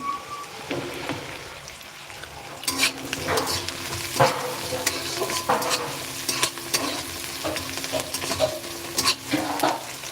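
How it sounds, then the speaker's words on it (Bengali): Onions frying in a generous amount of oil left over from frying fish, a steady close sizzle broken by repeated scraping stir strokes, with no talk. "পেঁয়াজটা কিন্তু এবার একটু মোটামুটি ভাজা হয়ে গেছে"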